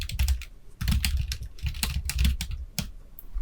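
Steady typing on a computer keyboard, fast clattering keystrokes in quick bursts, close and fairly loud, with no voices.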